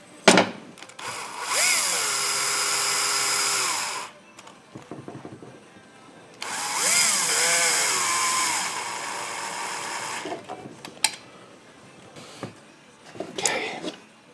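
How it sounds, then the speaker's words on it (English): A power tool drives case screws into a Husqvarna 390xp chainsaw in a shop, two sustained whirring bursts of several seconds each with short clicks and knocks between them, close up. "So let me get those case screws in."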